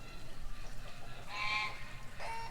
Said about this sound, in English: He's a silver duck-wing Old English Bantam.